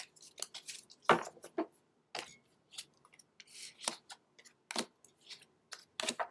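Tarot cards being shuffled by hand, giving soft irregular riffles, taps and flicks, close but faint against a quiet room, no talk.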